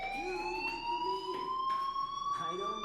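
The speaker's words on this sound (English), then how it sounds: "do you hear that fire alarm? That means you should be outside." Fire alarm ringing in the video game Life is Strange: a steady, piercing electronic tone that holds throughout, with brief bursts layered over it and voices talking faintly underneath.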